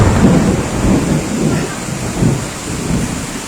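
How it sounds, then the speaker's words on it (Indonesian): A heavy thunderstorm over the city of Makassar, with rolling rumbles of thunder over a dense, constant roar of pouring rain and strong wind, loud and close, with no voices. "baru saja kilatan petir dan guntur kembali terjadi."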